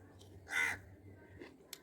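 A crow gives one loud, harsh caw close by, followed by a fainter second call and a brief sharp tick against a quiet background.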